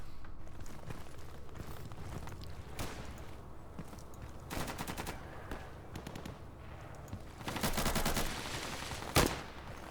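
Machine gun firing from a rooftop during player-versus-player combat in the online game New World, rapid rattling bursts with scattered single shots, moderately distant, louder toward the end with one sharp crack.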